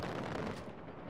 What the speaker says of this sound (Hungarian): Ezt a helikoptert viszont le kéne puffantani.